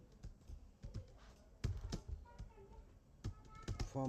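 Keys tapping on a computer keyboard in quiet bursts, with irregular clicks and a few firmer strokes, close and fairly soft.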